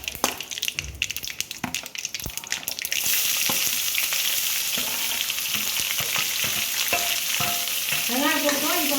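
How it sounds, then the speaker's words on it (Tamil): Chopped large onions dropped into a hot oiled pan for broad bean stir-fry, giving a few stirring clatters and then a sudden loud, steady sizzle that continues throughout. "இப்போ வெங்காயம் போட்டுக்கலாம்."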